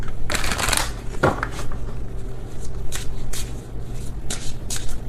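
A deck of oracle cards being shuffled by hand, several quick papery riffles and slides in short bursts, close and fairly loud, with no talking.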